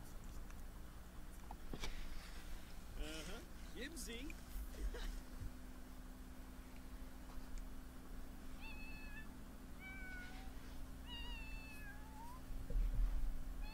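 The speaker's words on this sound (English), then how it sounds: "Let's listen to Cashew sing" Soft, high-pitched synthetic meows from a cat in The Sims 4 chirp in short bursts over a steady low hum, quiet and somewhat electronic in tone.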